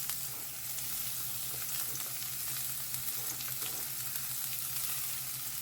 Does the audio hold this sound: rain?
no